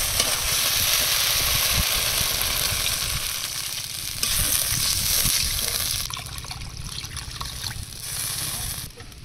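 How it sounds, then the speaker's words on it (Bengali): Water poured into poppy seed paste frying in oil in a pan, giving a loud steady sizzle and bubbling hiss that fades slightly after a few seconds. "এবার দিয়ে দেবো জল।"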